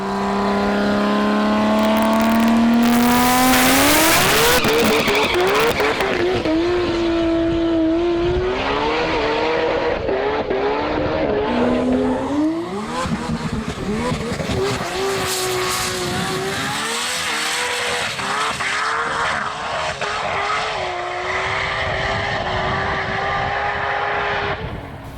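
A 1,200-horsepower Nissan GT-R drag car makes a pass in two-wheel drive, its engine screaming loudly up through rising revs and several gear changes, then fading into the distance as the run goes on.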